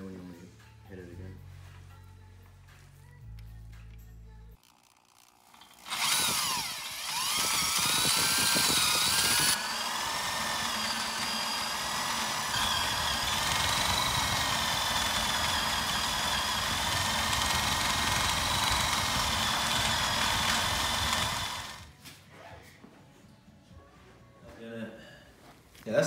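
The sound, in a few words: power drill drilling metal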